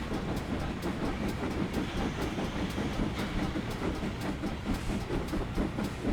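A King Class steam train in a train simulator game set on the Riviera Line in the 1950s, a steady rumbling rail noise with regular clicking beats, continuous and fairly loud, with no voices.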